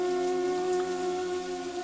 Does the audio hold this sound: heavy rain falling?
yes